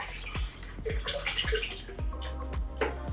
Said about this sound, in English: I'm gonna be adding in the coconut milk.